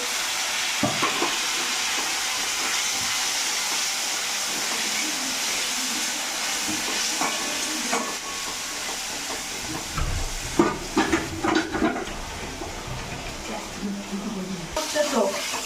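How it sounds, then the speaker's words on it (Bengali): Green chillies and a splash of water hit a hot frying pan while paneer curry cooks, producing a constant loud hiss and sizzle with stirring clatter and bursts of steam; someone speaks over it. "আমি দিয়ে দেবো চার পাঁচটা কাঁচা লঙ্কা আর দিয়ে দেবো আর একটুখানি জল দিয়ে ভালো করে কষিয়ে নেবো"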